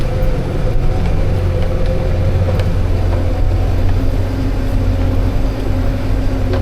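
A New Holland T5.140 tractor labors under load while working a hard field, its engine a loud, steady low drone with harmonic hum throughout, close by and without talk.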